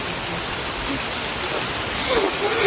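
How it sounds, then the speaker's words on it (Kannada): Heavy rain falls in a dense, steady hiss of drops on surfaces, building a little louder toward the end. "ಅಷ್ಟಲ್ಲಿ ಮಳೆ ಬರ್ತೈತಿ ಜೋರಾಗಿ"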